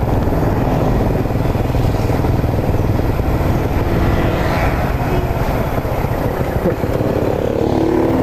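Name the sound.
motorcycle engine running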